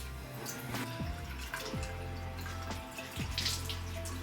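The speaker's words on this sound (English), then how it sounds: "Now I'll just rinse everything off." Tap water runs steadily into a sink while face cleanser is rinsed off, a close, continuous splashing flow with occasional small splashes and drips.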